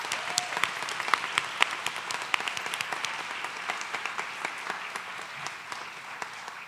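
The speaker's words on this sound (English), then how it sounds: "Can we give a round of applause for everyone who came today?" Audience applause fills the hall at a sophomore ring ceremony, a steady wash of many hands with sharp individual claps standing out, sustained and fairly loud throughout.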